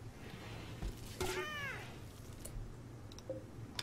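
A cat meows in the video game RimWorld, one clear drawn-out meow in the middle with a shorter faint call afterward, heard over a low background hum.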